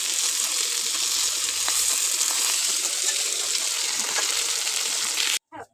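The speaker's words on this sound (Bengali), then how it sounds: "এদিকে মাছ ভাজা হচ্ছে" Fish fries in hot oil with an even, bright sizzling hiss that runs steadily up close, then cuts off abruptly at the end.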